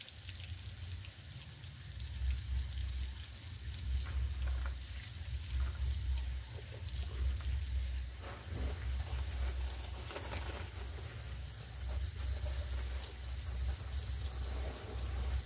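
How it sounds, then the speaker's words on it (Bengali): Steady water pouring and splashing onto garden plants during watering, a continuous low rush throughout with faint birdsong in the background. "গাছগুলোকে ভালো করে ভিজিয়ে জল দিয়ে দিচ্ছি"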